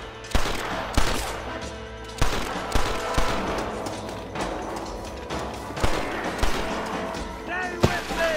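Gunfire in the Western video game Red Dead Redemption: repeated sharp shots and booming reports crack out in irregular bursts, close and loud, against a tense game soundscape.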